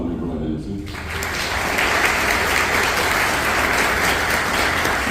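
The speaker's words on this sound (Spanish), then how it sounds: "un aplauso también para ella." An audience at a university communication-week lecture breaks into loud, sustained applause that swells in after a short spoken phrase and continues evenly to the end.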